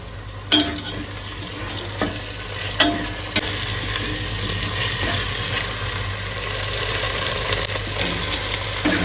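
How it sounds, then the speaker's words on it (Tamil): Mint leaves being stirred into frying biryani masala in a pan, a continuous low sizzle with a few sharp scraping clacks of the spoon against the pan, close and steady, no speech. "புதினா சேர்த்துக்கலாங்க. சேர்த்து நல்லா திருப்பி கொடுத்துக்கலாங்க."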